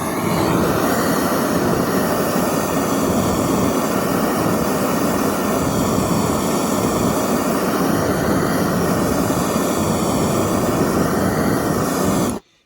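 A gas torch heats a scaled piece of steel, producing a loud, continuous roaring hiss that holds steady for about twelve seconds before cutting off abruptly.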